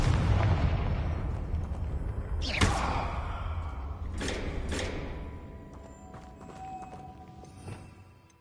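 Confringo spell blasts in Hogwarts Legacy, a series of sharp explosive booms with rumbling tails, several separate bursts that fade into quieter echoing background.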